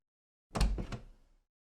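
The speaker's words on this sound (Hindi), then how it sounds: "हेनरी, दरवाजा खोलो" A cartoon door is knocked on in a quick burst of a few hollow thuds that fade out, loud and alone with no one speaking.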